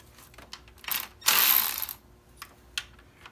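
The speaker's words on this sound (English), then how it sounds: "we'll go ahead and start working on getting the intake bolts removed here" A hand ratchet clicks in short bursts while loosening intake manifold bolts on a Ford Explorer 3.5 engine, with one longer run of rapid clicking in the middle and a few isolated clicks after.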